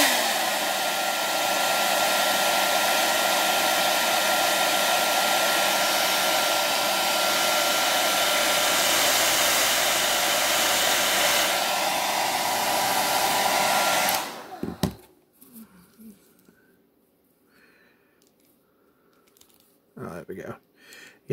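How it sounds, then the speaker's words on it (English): A heat gun blows hot air onto an action figure part with a loud, steady rushing whoosh for about fourteen seconds, then switches off, leaving quiet handling noises. "Let's hit that with the heat some more"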